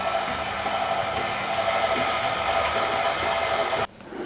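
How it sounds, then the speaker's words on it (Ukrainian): A stand mixer runs on low speed, folding dried fruit into a cheese paska dough with a steady, even motor whir that cuts off abruptly near the end. "Та ще раз все гарненько перемішуємо на низькій швидкості, щоб вони добре вмішалися."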